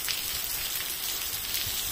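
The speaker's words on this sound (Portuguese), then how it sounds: "Meu Deus do céu, mas que chuva, olha." Steady heavy rain hisses continuously on a dairy farm, a dense wash of falling water with no voices.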